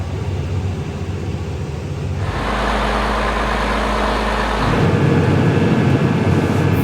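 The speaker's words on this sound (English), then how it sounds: "This is his first time in the tractor." A tractor engine runs steadily at harvest, with a broad mechanical drone that shifts in tone and gets louder partway through, with no talking.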